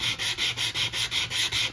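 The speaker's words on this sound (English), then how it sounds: "So, just want to sand enough so that you see some of that white coming through." Sandpaper rubbed back and forth across the edge of pink cardstock during card making, a steady rhythmic scrubbing of about eight close strokes with no talk.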